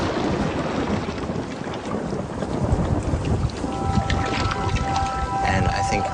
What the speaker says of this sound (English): It rains outside, and there's millions of drops hitting the ground.